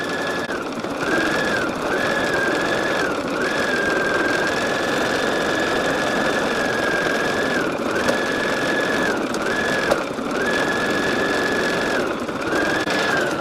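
An embroidery machine runs a double stitch line through two layers of stabilizer for an in-the-hoop project, a steady mechanical whir with a constant pitch and a few brief pauses and slight shifts in tone.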